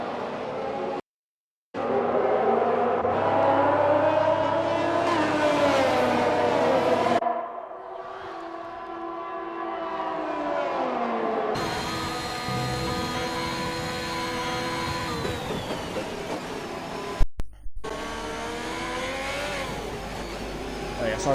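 Race cars in a Silverstone racing game accelerate hard after the safety car leaves, engines rising and falling in pitch through repeated gear changes, loud and continuous with brief cut-outs and a sharp click near the end.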